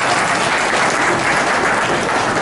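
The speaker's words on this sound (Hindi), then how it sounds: "लिए तालियां हो जाए।" Dense, loud applause from a seated audience at an Eid gathering held in a hotel, continuous clapping throughout with no break.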